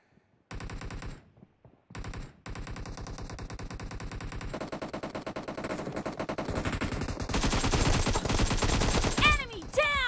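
Automatic gunfire in PUBG Mobile, long fast bursts of shots after brief opening pops, growing denser and louder toward the end with sharp ricochet-like pings at the finish.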